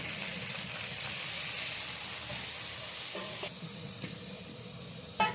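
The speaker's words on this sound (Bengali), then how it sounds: "এবার আমি এখানে কাঁচা কিছু বাটা মশলা দিয়ে দিচ্ছি" Raw ground spice paste sizzles and hisses in hot oil with ginger for a katla fish curry, a soft steady frying sound broken by a few stirring scrapes and a sharp clink near the end.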